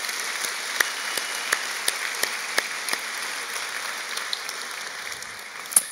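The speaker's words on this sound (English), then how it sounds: "Let's give them a round of applause." Fairly quiet applause from the audience at a high school graduation ceremony, with scattered distinct claps standing out over a soft, steady wash of clapping.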